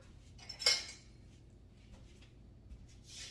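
A metal spoon picked up from among kitchen utensils, one bright clink followed by faint clatter and a soft metallic rustle near the end, quiet and close in a still room.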